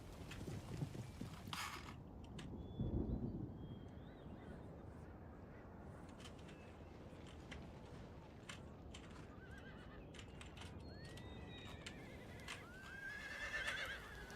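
Several cavalry horses neigh and whinny in the video game Empire: Total War over a dense bed of hoofbeats and rumbling, the calls rising at the start and again near the end.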